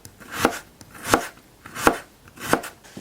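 A knife cuts through potato in four evenly spaced slices, each ending in a crisp tap on the cutting board, close and clear with no talking.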